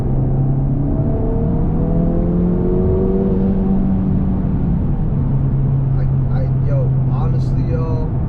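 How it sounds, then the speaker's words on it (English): An Acura Integra Type S (FL5) pulls hard in third gear, its engine holding a loud, steady rising drone throughout, with a brief higher whine near the end. "All right, third gear pull."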